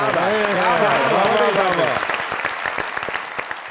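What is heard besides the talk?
studio audience applause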